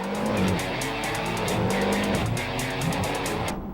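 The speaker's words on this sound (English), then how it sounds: "Hit the gas, Jack" A racer in the Jak X video game accelerates, its engine roaring loud and continuous with rising and falling pitch and some tire noise, with no voices over it.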